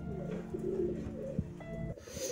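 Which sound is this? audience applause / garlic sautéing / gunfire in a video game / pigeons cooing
pigeons cooing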